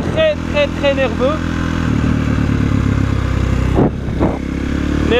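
Close up, a KTM 450 SXF four-stroke motocross engine gives a few quick throttle blips, then settles into a steady, throbbing idle before another sharp rev, while a person speaks over the noise.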